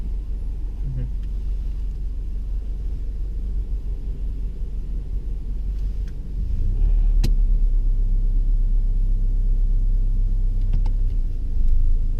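A learner driver's car pulls away during a driving lesson, with a low steady engine rumble that grows heavier as it moves off, under quiet cabin background.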